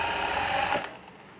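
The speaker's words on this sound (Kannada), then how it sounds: "ಈಗ ಹೊಲಿಗೆ ಹಾಕ್ಕೊಳ್ಳೋಣ" A sewing machine stitching fabric for thread piping, a brief steady mechanical whir that runs for under a second and then stops abruptly, close by and alone.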